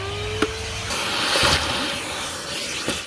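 A hoover runs inside an Audi A6 C7, a steady breathy hiss with rough airy noise, close up, interrupted by a few sharp knocks and clicks as the nozzle moves about the car's interior.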